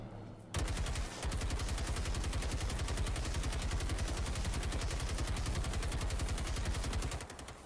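The experimental KVM 59 light machine gun in Generation Zero fires one long, unbroken burst of rapid, evenly spaced shots, loud and close, that runs for about six and a half seconds before stopping.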